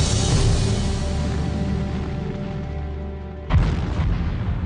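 A railroad tank car holding 28,000 gallons of propane erupts into a huge fireball, a loud sustained roar under a dense rumble, then a sharp fresh boom near the end.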